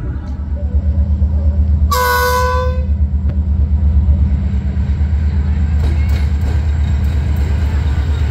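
A loud train horn blasts once over the heavy rumble of a passing train, which keeps droning steadily afterward.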